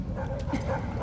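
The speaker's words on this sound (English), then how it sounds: "set the dogs on me" Dogs barking in the Ace Combat 7: Skies Unknown video game, a brief burst of low, muffled yips and whimpers set against a steady rumbling background.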